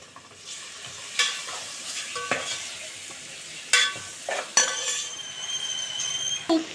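Masala dosakaya (yellow cucumber) chicken stirred in a pan, a soft ongoing sizzle broken by several sharp clinks and scrapes of a ladle against the metal.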